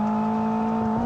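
A VW GTI engine in a video game holds a brief, steady buzzing whine that edges slightly higher in pitch.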